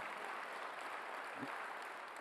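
A church congregation at a Korean Sunday worship service claps together in a steady, dense wash of applause, moderately distant, with no voices over it.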